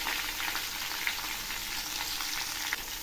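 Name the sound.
stir-frying bottle gourd with salt and turmeric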